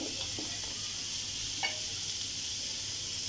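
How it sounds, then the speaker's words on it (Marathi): Onion, garlic and ginger sautéing in a pan over medium heat for mutton curry, a steady close sizzle and hiss throughout with a few faint stirring taps, no talking. "आपल्याला आलं, लसूण आणि कांदा थोडा परतून घ्यायचा आहे"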